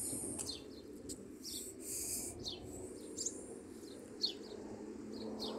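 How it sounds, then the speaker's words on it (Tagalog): Repeated short high chirps from a bird ring out over a steady low outdoor hum, fairly faint and at a moderate distance. "Nasaan yung ibon na naririnig ko na eh? Nandyan sa puno."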